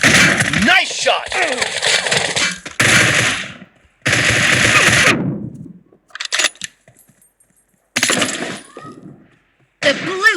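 Gunfire in the battle-royale game PUBG: loud bursts of rapid automatic fire in several separated volleys, with short silent gaps and brief clinks and shell-like rattles between them.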